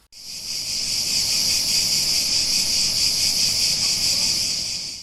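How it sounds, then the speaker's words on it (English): Loud, shrill cicada buzzing drones on without a break, a high pulsing whine that fades in and out at the edges. "I think cicadas are the signature sound of summer"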